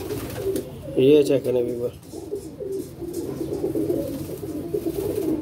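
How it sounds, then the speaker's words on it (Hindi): Pigeons coo in repeated throaty, warbling phrases close by amid a steady background murmur, while someone talks over and between the calls. "ये देखें क्रीज में सारे कबूतर हैं"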